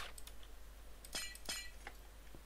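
A glass block shatters in the Minecraft video game, two sharp bright crashes of breaking glass close together, followed by small faint clinks against a quiet background.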